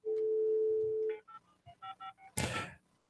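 A telephone line plays a steady dial tone, then a series of short, even keypad dialing tones, ending in a brief loud clunk or burst of noise.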